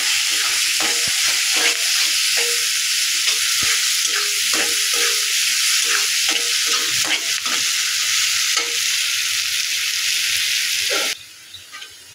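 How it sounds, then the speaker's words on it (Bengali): Red lentils frying with turmeric powder and salt in a pan, a loud steady sizzle with repeated scraping strokes of a spoon stirring throughout, stopping abruptly near the end. "অল্প পরিমাণে একটু হলুদ গুঁড়া, আর দেবো পরিমাণ মতন লবণ। দিয়ে ডালটা ভালোভাবে ভেজে নেব।"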